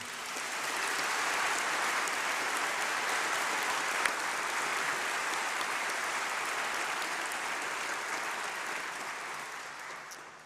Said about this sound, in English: perhaps we could just start by giving another round of applause for our wonderful musicians